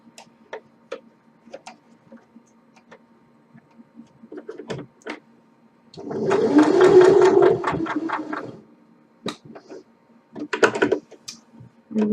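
A sewing machine stitches a peg bag in one close, steady burst of about two and a half seconds, set among quieter clicks and handling sounds.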